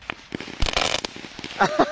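Fireworks lit with an electric current go off close by in a dense, crackling burst lasting about half a second, followed by scattered pops, with people's voices and excited reactions around it.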